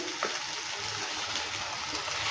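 Amra chutney being stirred in a pan after jaggery goes in, a steady bubbling sizzle with faint scraping, heard close and continuous with no talking.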